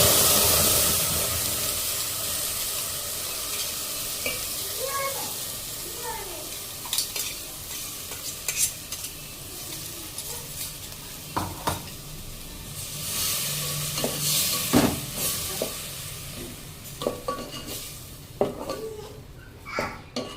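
A spoon scrapes and stirs a tomato paste mixture in a pan for egg biryani, with repeated close strokes over a soft, continuous sizzle.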